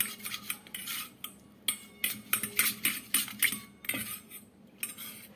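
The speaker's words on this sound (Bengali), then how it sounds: "এবারে ভালোভাবে মিশিয়ে নিচ্ছি" Metal spoon scraping and clinking against a bowl while green chili pickle is mixed with Kashmiri red chili powder, a close run of irregular taps and scrapes, with no talking.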